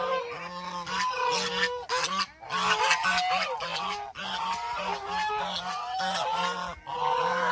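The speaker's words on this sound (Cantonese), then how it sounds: "隻鵝好似想攻擊我咁樣嘅" Geese honk loudly and nearly nonstop at close range, a cluster of harsh overlapping calls in rapid bursts with only brief gaps, near a person walking among lychee trees.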